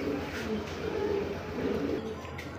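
Low cooing of Kaldom pigeons murmurs through a dense, noisy background, soft and continuous with a faint hiss throughout.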